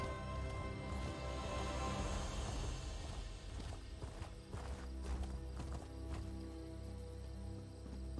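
Horse hooves clip-clopping in the Elder Scrolls Online video game, a steady rhythmic trot over game ambience and music, fairly faint.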